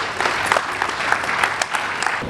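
A burst of crowd clapping at a summit, brisk and continuous, moderately loud for a couple of seconds.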